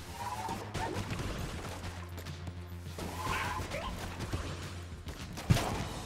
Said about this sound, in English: Alright, let's see what the trash cannon does, exactly.